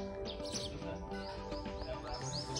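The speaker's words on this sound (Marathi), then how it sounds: "पक्ष्यांचा आवाज येत आहे," Sparrows chirp in a short, faint burst of repeated high tweets on a rural Konkan morning, set against a soft, steady background.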